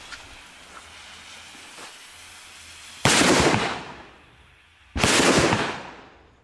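Two loud fireworks bangs sound about two seconds apart, each a sharp blast trailing off into crackle and hiss, after a stretch of quiet outdoor background.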